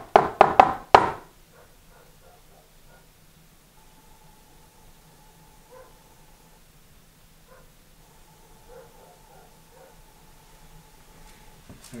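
A few sharp knocks on wood sound in a quick cluster at the start inside an old house, followed by a long stretch of near silence with a faint hum.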